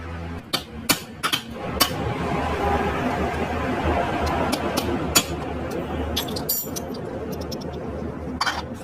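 Sharp metallic hammer strikes on a rattling spring of a TVS Apache RTR motorcycle engine ring out intermittently over a steady engine rumble, some single blows, some quick pairs.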